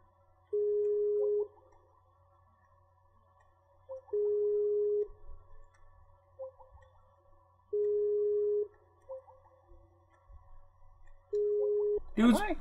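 A phone ringback tone sounds in four even, spaced pulses over a faint hum, with soft background noise and a brief sound at the end.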